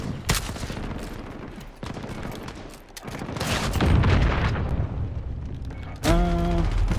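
Rapid FAL rifle shots in a video game crack out in dense bursts, loud and close, with a sharp electronic tone sweeping in near the end.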